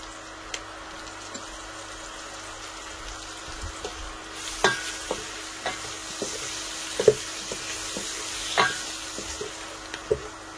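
Vegetables being stirred in a sizzling pan, with spinach, eggplant and okra among them, steady frying hiss broken by irregular utensil scrapes and clinks, close and moderately loud, no talking.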